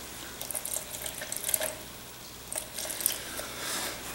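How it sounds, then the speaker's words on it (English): Water runs into a container being filled to about 100 milliliters, a soft, uneven trickle with small splashing bursts, faint and close, pausing briefly midway before resuming. "So I'm going to fill this up to a little over 100 milliliters."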